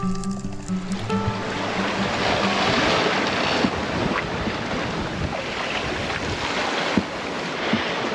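Sailboat running downwind on the open ocean near Vanuatu, steady loud rush of wind and water along the hull with occasional splashes, continuous and close throughout.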